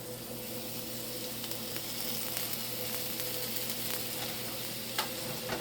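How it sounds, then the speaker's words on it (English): A New York strip steak sears in a hot, smoking skillet with a steady, dense sizzle, close and even throughout, and no voices. "And you can hear that nice sear, which I absolutely love."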